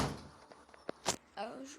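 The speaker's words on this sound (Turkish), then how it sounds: "sesten dolayı kusura bakmayın yoksa kapı çarptı." A door bangs shut somewhere in the house behind a person playing Clash of Clans, a few short knocks and thuds close by, followed by a brief voice.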